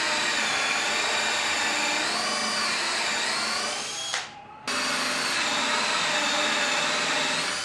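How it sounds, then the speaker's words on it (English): A power drill with a Forstner bit whines loudly and steadily while boring holes, briefly cuts out near the end, then spins back up with the same high, continuous drone. "I could bump this Forstner bit against that straight edge, drill my hole"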